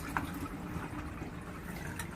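Water is poured out of the drip tray of a KRUPS EA8250 espresso machine, a soft continuous splashing and trickling, fairly quiet and close, with a couple of faint clinks.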